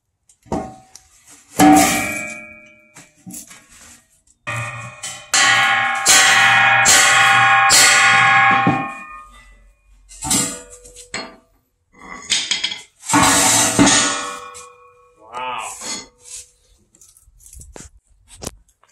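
Loud metallic clanging as a hammer repeatedly strikes a metal cone mold to knock out slag from smelting gold from tailings, bursts of ringing knocks separated by short pauses, close and sharp.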